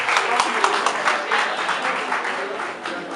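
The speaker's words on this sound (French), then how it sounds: "Applaudissez." An audience at an association gathering in Paris claps together, a dense, steady round of applause filling the room at fairly close range, with a voice faintly mixed in underneath.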